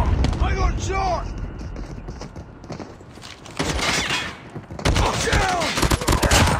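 Gunfire in the mobile shooter Call of Duty Mobile, with bursts of rapid shots separated by short lulls, mixed with game voice callouts and other effects.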